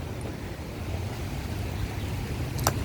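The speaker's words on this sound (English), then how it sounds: "Water running going into his swamp." Hurricane Beryl floodwater in Barbados rushing steadily through an area toward a swamp, a dense, continuous roar of moving water and wind, loud and unbroken, with a brief sharp knock near the end.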